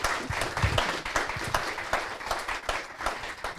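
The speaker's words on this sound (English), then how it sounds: "please give them huge applause" Applause for conference participants being introduced at an international conference, a steady patter of many hands clapping at moderate volume across the room, without talk over it.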